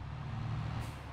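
Truck or tractor driving in the video game Farming Simulator 22 on a farm, a faint, steady low engine rumble for about a second.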